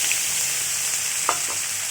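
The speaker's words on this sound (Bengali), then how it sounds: "পেঁয়াজ আলু কুচিটা দিয়ে দিচ্ছি তেলের মধ্যে" Chopped onion and potato frying in oil after fish, a steady close sizzle with a couple of sharp utensil knocks near the end, no talking.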